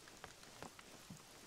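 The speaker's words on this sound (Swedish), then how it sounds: "Det regnar in i sig." Rain in the hunting video game The Hunter: Call of the Wild, a faint, steady patter with scattered drops tapping near a wet wooden building, no talk.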